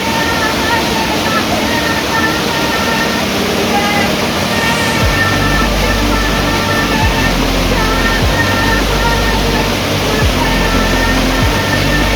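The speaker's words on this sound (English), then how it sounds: "I've been bathing in this beautiful waterfall here and just singing and chanting" Steady, loud roar of a Himalayan waterfall during the monsoon, a dense wall of rushing water that fills the whole stretch without pause.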